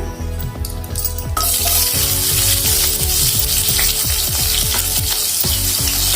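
Chopped onions dropped into hot oil with cumin seeds burst into a loud, steady sizzle that fills the pan, with the stir of a spoon clacking intermittently against it, close up.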